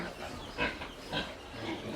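Pigs on a pig farm, a few short grunts and snorts in quick succession, fairly faint against low background noise.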